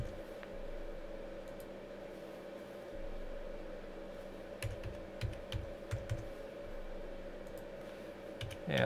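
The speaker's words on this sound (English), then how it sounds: "I'm going to make up some quick numbers here by typing in." Someone types numbers on a computer keyboard for chart data in Adobe Illustrator, a short cluster of soft, close key clicks over a steady hum from a quiet room, with a louder click at the end.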